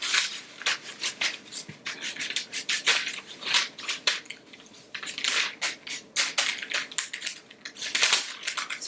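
Pieces of jack-o-lantern pumpkin spread by hand across a parchment-lined cookie sheet for roasting: close, busy crinkling of paper and sharp clicks and taps against the metal pan, coming in irregular bursts with no talking.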